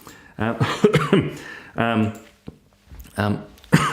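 Several harsh, abrupt coughs come in short bursts between stretches of a man's speech, close to the microphone.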